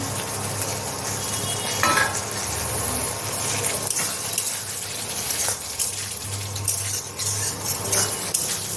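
Mushrooms being fried and stirred in a pan for a mushroom and potato curry, a steady close sizzle with scraping stir strokes, no talking.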